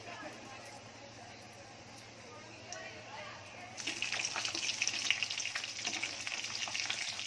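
Chicken samosas fry in a pan, a low background sizzle that swells into louder, crackling bubbling partway through and keeps on steadily.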